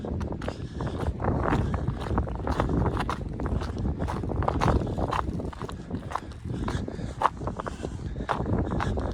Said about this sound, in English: The wind's a little strong up here, but not bad.